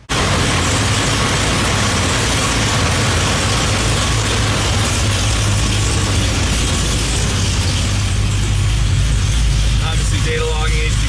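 A Camaro ZL1 V8 with a lopey cam roars under load on a dyno during a tuning pull, loud and sustained throughout with heavy low rumble and broadband roar.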